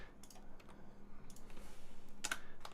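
Fingers type on a computer keyboard nearby, a few scattered soft clicks and taps at a quiet level with no talking.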